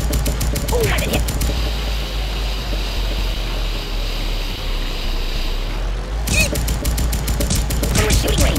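Rapid-fire gunshots in Kick The Buddy rattle loud and close in two dense bursts, separated by a stretch of steady rumbling background noise.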